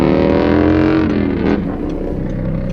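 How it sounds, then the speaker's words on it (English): A car doing a burnout nearby, its engine holding a loud, steady high-rev roar that wavers slightly and eases off toward the end. "Oh, that guy's doing a burnout"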